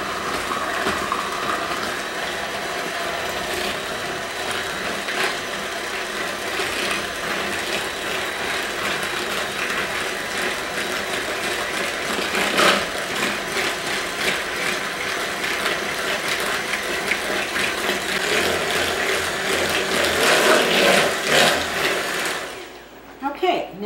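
An electric mixer creams butter for honey bee cookies, a loud, steady whirring drone that runs close and unbroken for over twenty seconds before cutting off at the end.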